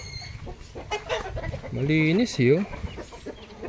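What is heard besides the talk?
chicken clucking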